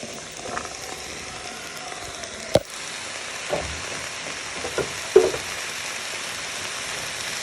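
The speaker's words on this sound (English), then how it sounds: "So next step, you're going to add in your mushrooms and carrots." Mushrooms and carrots frying in a pan with meat, onions and garlic for a sweet potato lamb pie, a steady soft sizzle with a few faint clicks of stirring, no voices.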